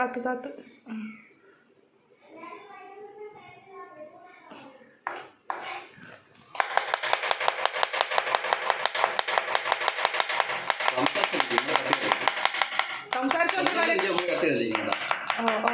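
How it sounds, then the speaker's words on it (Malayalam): Onions being chopped on a board, a fast even run of knife taps that goes on for several seconds after a stretch of talk, with voices also heard over the chopping. "അങ്ങനെ സവാള കട്ട് ചെയ്യുന്നതിൽ എക്സ്പേർട്ട്."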